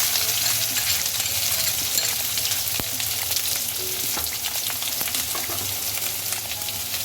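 Green chillies and chopped onions fry in a pan for poha, giving a loud, steady crackling sizzle throughout with occasional light clinks of utensils, no talking.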